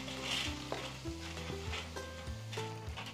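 Food frying in hot oil, a close, busy sizzle with stirring scrapes and a few tonal clinks, steady throughout without talk.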